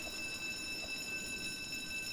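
A train rolls past in a video game, heard as a steady, even rumble with a thin, constant whine layered over it. No one talks over it.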